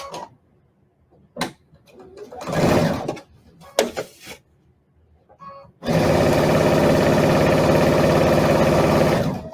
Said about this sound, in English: I'm going to start at the very top again to sew.